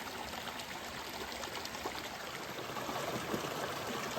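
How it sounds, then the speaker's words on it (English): Close, continuous rushing and gurgling of a shallow river in a New Mexico canyon as a hiker crosses it, steady throughout with small splashy accents and no talk. "Crossing the river again."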